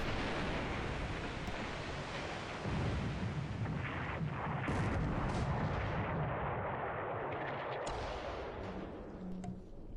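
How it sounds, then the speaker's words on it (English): Naval gunfire from the aircraft carrier Kaga firing 8-inch shells in a World War II strategy video game, heavy booming blasts rolling continuously with dense rumbling bursts and no talk. "that's the Kaga shooting 8-inch shells at the Jupiter"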